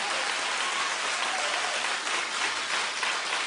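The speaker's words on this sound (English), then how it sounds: "Keep clapping for the end of an era." Loud, continuous studio audience applause at a TV talk show, a dense wash of clapping that holds steady throughout, close and full with no speech over it.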